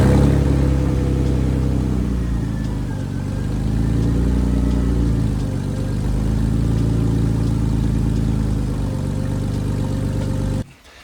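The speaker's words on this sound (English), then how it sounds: "let's see how it sounds when I start the car up right now." A budget drift car fitted with cheap headers cranks and fires up cold, then settles into a loud, steady, rumbling idle up close, cutting off abruptly at the end.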